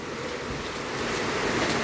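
Heavy rain and gusting wind lash a balcony in a steady, loud, unbroken roar that swells slightly toward the end.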